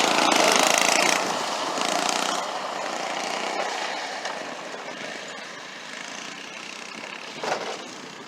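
Go karts race at Northport International Raceway, a loud engine buzz passing close early on and then fading to a steadier, more distant drone with a brief surge near the end.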